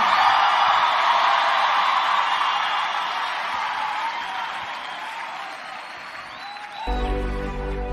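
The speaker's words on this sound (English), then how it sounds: "clap them hands and scream hallelujah" Loud, dense crowd clapping and cheering fills the whole stretch, a broad roar of applause that thins slightly before a sudden low rumble near the end.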